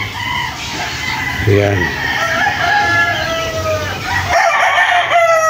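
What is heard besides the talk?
chickens and roosters crowing at a poultry farm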